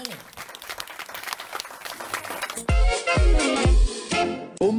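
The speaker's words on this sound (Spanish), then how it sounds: "denme un fuerte aplauso, pero fuerte todo." Audience applause at a birthday party, starting around the midpoint as loud bursts of clapping with sharp thumps, preceded by lively crowd noise and voices.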